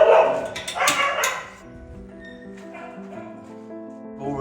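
Dogs at a Thai dog shelter bark loudly in a short burst up close, then trail off into drawn-out whining and howling tones from several animals.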